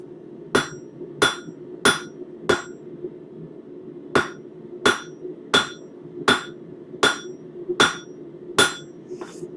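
Hammer blows ring sharply on metal in a steady rhythm, about a dozen strikes with short pauses, close and loud over a low background hum.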